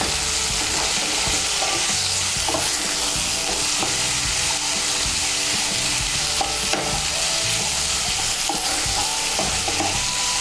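Spice paste of cumin and chili powder is stirred into prawns frying in a pan, giving a steady close sizzle with scraping stir strokes throughout and no talk.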